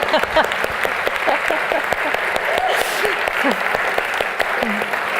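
An audience bursts into dense, sustained applause at the close of a talk, with voices murmuring underneath the clapping.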